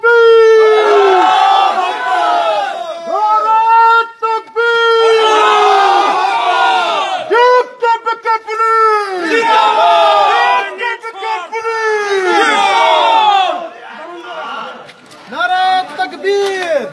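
A large crowd shouts a takbir slogan in unison, with loud, ringing bursts of massed voices answering in repeated waves and brief gaps between them.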